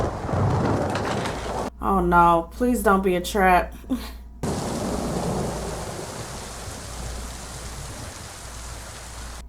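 Steady roaring rain and rumbling thunder from a storm in an episode of The Walking Dead fill the clip, briefly giving way to a voice speaking in the middle before the storm noise returns.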